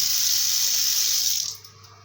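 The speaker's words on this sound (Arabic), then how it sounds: "الميه مفتوحه" Tap water runs steadily into a repaired fiberglass bathtub, a loud broad hiss that cuts off near the end, leaving a quieter trickle as the water drains.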